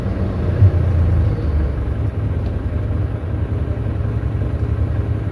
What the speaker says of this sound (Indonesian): mesin pengaduknya